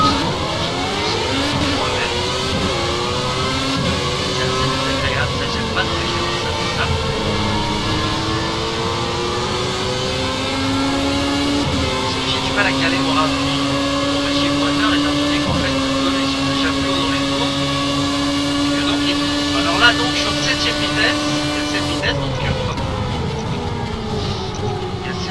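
A vintage Formula 1 car in the racing game Project Cars gives a high, whining engine note that climbs and shifts through the gears. It stays loud and continuous for the whole stretch.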